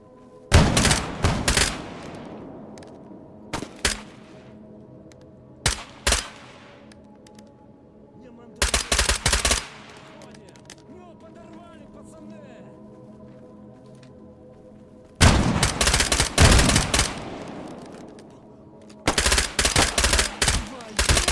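Gunfire in the video game STALKER: GAMMA, with loud bursts of rapid shots and single cracks separated by quieter stretches of ambient game sound.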